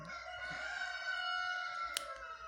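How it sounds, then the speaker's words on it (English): A rooster crows with a long, sustained harmonic call, fairly loud and close, with a faint short click near the end. "My village chickens are like noisy."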